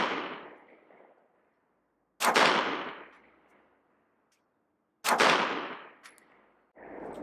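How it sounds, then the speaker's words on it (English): Two sharp 9mm pistol shots fired with 115 grain AAC XTP jacketed hollow point rounds over a chronograph at a range, each a loud crack with a long echoing decay, spaced a few seconds apart. "let's check the chronograph test and see what kind of velocities we're going to get, and then start shooting some gel"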